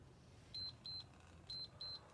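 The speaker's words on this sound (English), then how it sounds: "all the way through the workout, you will get that halfway beep" Four short, high electronic beeps of a workout timer's halfway signal sound in two pairs, evenly spaced, over a quiet low hum.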